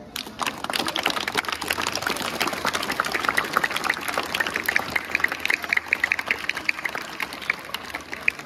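A school audience at Sekolah Kebangsaan Lanai claps for the Year Six student representative, producing dense, steady applause with many overlapping hand claps that continues for several seconds with no one speaking.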